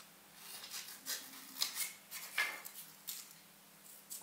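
Scissors snip a thin polyethylene strip, about 3 mm wide, into leaf shapes for a nativity scene model, giving a series of close, crisp cutting clicks spread irregularly over a quiet background.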